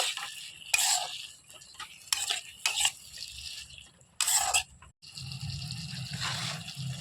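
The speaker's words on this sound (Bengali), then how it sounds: "এবার এর মধ্যে দিয়ে দেবো ভেজে রাখা কিছু খাসির মাংস। এটাকেও ভালোভাবে মিশিয়ে নেব।" Fried mutton stirred into a pot of ghugni made with goat fat and dried peas, with wet scraping and sloshing bursts that come and go, then a steadier stirring sizzle toward the end.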